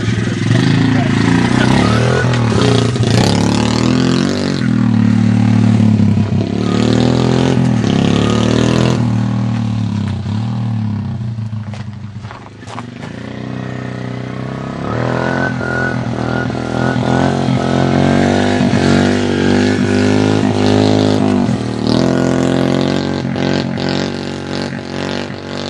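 A Honda 50cc motorcycle engine revs up and down repeatedly, loud and close, its pitch rising and falling through the clip, with people talking over it.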